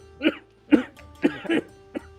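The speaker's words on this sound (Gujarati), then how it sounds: "આ ખાંસી થાય છે ને તને ખબર છે ને આ હુકી ખાંસી છે" Four or five short, sharp whooping coughs in a loose sequence, fairly close and moderately loud, with brief quiet gaps between them.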